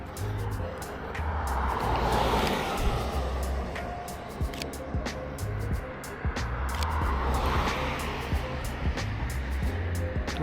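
A car rolls past on a town street, its tyre hiss swelling and fading, followed by a second pass, heard up close outdoors amid light footsteps and clicks.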